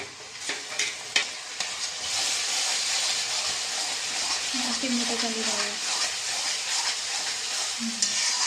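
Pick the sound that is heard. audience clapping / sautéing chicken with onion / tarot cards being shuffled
sautéing chicken with onion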